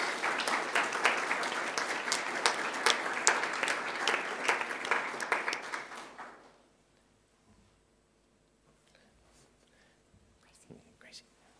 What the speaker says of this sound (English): All right, a round of applause for our indoor hockey players